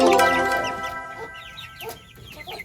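Breeding chickens and young chicks on a Filipino poultry yard, with a loud drawn-out cluck up close at first, followed by a scatter of thin, high chick peeps and softer clucks nearby.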